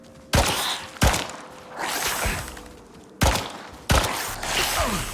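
Gunfire at a scorpion in the survival game Icarus: four loud, sharp shots in two close pairs, each followed by a short echoing decay.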